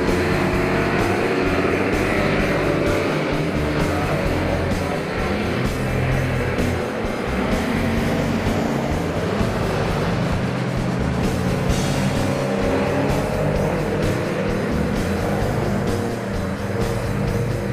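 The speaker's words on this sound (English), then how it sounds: "it wasn't just tail-happy 911s and Healey 3000s that were finding Druids a challenge, as Robert Farrell demonstrates" A Jaguar E-Type GT race car takes Druids corner during a historic GT race, its engine a continuous loud roar that holds steady throughout with no clear gaps, crowd-level ambience underneath.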